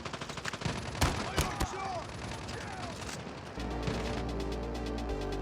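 Gunfire from an NA-45 in Call of Duty Mobile, with shots and bomb detonations: several sharp, loud bangs close together early on, then a rattling burst over a droning game background.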